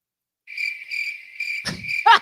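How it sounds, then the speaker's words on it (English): Crickets chirp in short repeated bursts of high trills, close and clear, with a brief rustle and a louder chirp near the end. "See, that's what crickets are supposed to sound like."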